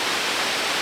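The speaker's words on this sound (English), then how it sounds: "We are the Shuraito Notaki waterfalls, and it's beautiful." The Shiraito waterfalls near Mt Fuji in Japan roar as a steady, broad wash of falling water, constant and loud with no break and no voices.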